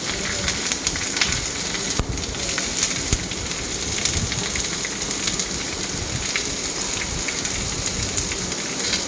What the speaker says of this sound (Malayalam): പച്ചമുളകൊക്കെ ഇട്ട് നമ്മളൊന്ന് പതുക്കെ വഴറ്റുക.